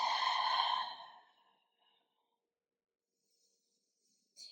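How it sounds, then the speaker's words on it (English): A deep, breathy exhale during a calm yoga flow fades out over about a second, followed by near silence and a faint short breath at the end. "Take deep breaths."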